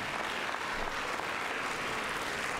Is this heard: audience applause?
yes